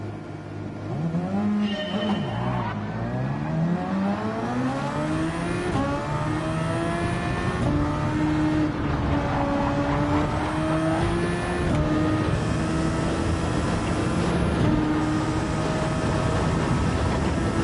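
Race cars in Gran Turismo 7, engines revving and rising through gears with pitch sweeps as cars accelerate and pass, loud and continuous with overlapping motors.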